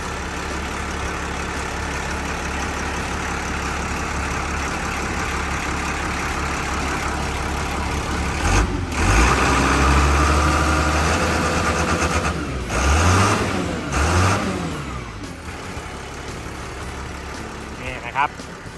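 The Isuzu diesel engine of a Hitachi LX100 wheel loader idles steadily throughout, rumbling evenly with a few brief revs and knocks, while someone talks over it.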